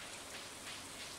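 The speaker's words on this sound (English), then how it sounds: "it is raining" Steady rainfall from the Stardew Valley video game, a soft, even hiss of drops with no voices over it.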